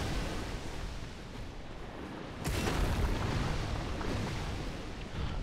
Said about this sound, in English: Let his Hydra bullets hit the golems, and here, hit them pretty hard and kill them for you.